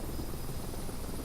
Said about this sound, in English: It is so different trying to fly a helicopter.